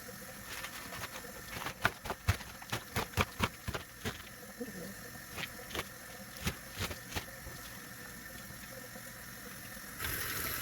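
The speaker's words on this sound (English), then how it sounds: "you have to wash them a few times because one wash is not going to get it" Collard greens being washed by hand in a sink of water, with steady running water underneath and irregular splashing pats and sloshes throughout, close and fairly quiet.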